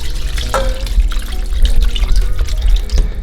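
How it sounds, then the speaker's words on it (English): Water pours and trickles steadily into a pot of meat for okra soup at close range, with a low background hum throughout. "So I'm just gonna put some water to the level of the meat."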